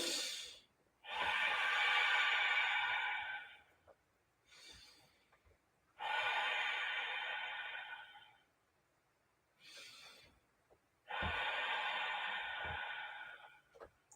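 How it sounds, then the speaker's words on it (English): Three slow nasal breath cycles, each a long airy inhale through the nose followed by a shorter exhale, close and quiet with pauses between, paced as a yoga breathing exercise. "Breathe in and out through your nose this time."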